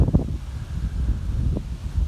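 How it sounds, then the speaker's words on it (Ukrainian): Wind gusts buffet the microphone with low rumbling and rustling, a rough, steady outdoor roar. "великий вітер."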